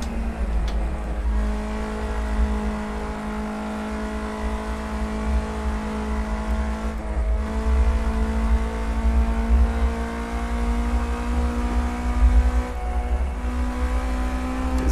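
A car engine drones steadily at high revs while lapping a track with elevation changes, its strong harmonic tone shifting slightly through gear changes, loud and close throughout with no talk.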